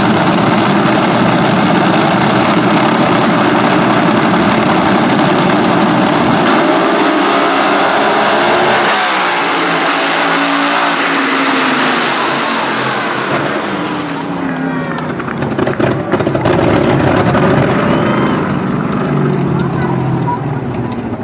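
Top Fuel dragsters in a drag race final let out a loud, continuous, broadband engine roar that fills the whole stretch, shifting in tone partway through as the cars run.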